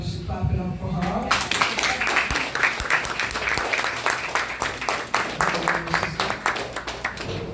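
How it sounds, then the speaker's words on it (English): Audience at a Juice For Life gathering in Brooklyn clapping to welcome a guest, a steady burst of applause lasting several seconds with a voice talking over it. "We probably should clap it up for her."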